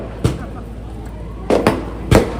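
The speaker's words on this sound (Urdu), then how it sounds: "یہ جو پٹاخے بازی ہو رہی ہے یہ ہم نہیں کر رہے۔" Firecrackers bursting outdoors during a political event in the street, three sharp cracks spread across a couple of seconds with a background murmur between the blasts.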